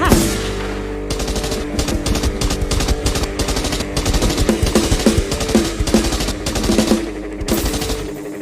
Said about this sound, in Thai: เสียงปืนยิงขึ้นฟ้า